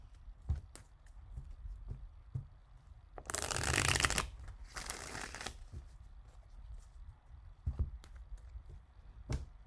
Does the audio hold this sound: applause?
no